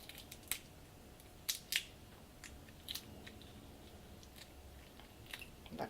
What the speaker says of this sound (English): Twist the head off. Peel over the rest of the shell.